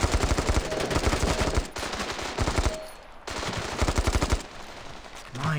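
Rapid automatic weapon fire in the mobile shooter Standoff 2, loud bursts of machine-gun-style shots in quick rhythm, pausing briefly between strings of fire, with no talking.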